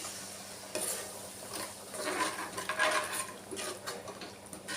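A spoon stirs egg curry with water in a pot, producing soft, irregular scraping and sloshing with light clinks, fairly quiet and close.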